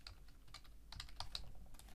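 Quiet, close computer keyboard typing as library names are entered into a requirements file, a brisk patter of soft keystroke clicks with no talk.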